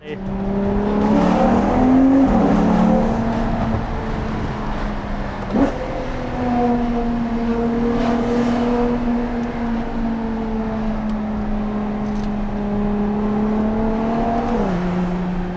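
Ferrari Purosangue engine on a Double Bay street in Sydney, a loud, sustained close-up drone with a brief dip and shift early on, holding steady before dropping again near the end.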